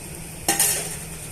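Cumin, dried chillies and curry leaves crackle in hot oil for a tempering, a faint low sizzle jumping into a brief bright splutter that then settles; no talk.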